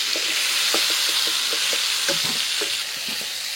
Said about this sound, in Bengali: আর পটল কিন্তু খুব বেশি ভাজবো না, এইরকম মাঝামাঝি ভেজে তুলে দিচ্ছি